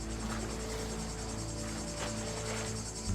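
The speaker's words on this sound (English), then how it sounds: "The sounds of cicadas, a large beetle-like insect known for making a racket when they are present, fills the hot summer air" Cicadas buzz continuously in the hot summer air at Recco on the Italian Riviera, a steady, faint high-pitched drone with a low hum beneath it.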